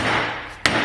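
A hammer strikes a part clamped in a vise during race car work, landing one sharp, close metallic tap after a brief stretch of low background noise.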